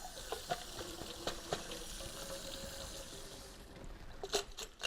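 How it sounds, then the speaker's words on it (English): Fishing lures rinsed under a running kitchen tap, a steady close stream of water with splashing and occasional clinks of the lures, growing busier toward the end. "once we get them rinsed off sufficiently"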